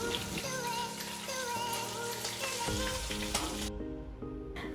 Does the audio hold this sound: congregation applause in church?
no